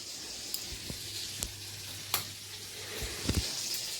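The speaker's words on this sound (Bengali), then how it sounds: "এই যে মাছ রান্না করছি।" Fish frying in a pan at home makes a quiet, steady sizzle, broken by a few soft clicks and taps of stirring.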